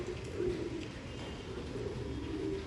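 An old line pigeon at a Bangalore sale coos softly, low repeated throaty calls close by against a quiet background hum.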